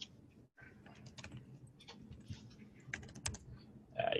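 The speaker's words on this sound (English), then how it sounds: "you have to excuse my typing on the fly here" Rapid, uneven keystrokes on a computer keyboard, close and fairly quiet, with a brief pause near the start and bursts of clicking throughout.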